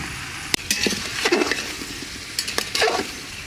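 Potato chunks are tipped into a pot of chicken curry and stirred, giving a sharp clank of metal on the pot followed by scraping spoon strokes and soft clinks over a faint sizzle, cooked while rain falls outside.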